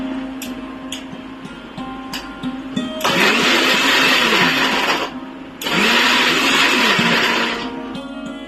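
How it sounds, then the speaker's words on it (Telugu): A kitchen mixer grinder whirs in two loud bursts separated by a short pause, blending soaked almonds into a smooth paste, following some quieter clinks and handling. "దీంట్లో వేసి మిక్సీ పట్టాలి."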